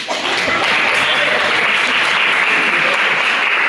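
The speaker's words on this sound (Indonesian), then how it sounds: "Oke ya, aplaus ya." Applause in a university Pancasila lecture classroom, a dense, steady clapping from a group of students filling the space loudly and evenly throughout.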